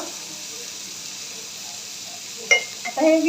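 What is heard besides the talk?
chopped tomato added to frying onions in pan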